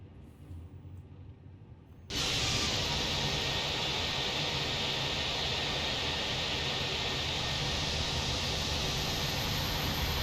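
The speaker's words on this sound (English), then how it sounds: "Throttles to idle. Retard. Good touch. Into reverse." An Airbus A320 in Microsoft Flight Simulator 2020 goes into reverse thrust after touchdown: a faint hum gives way to a sudden, loud, sustained broadband engine roar that holds steady until the end.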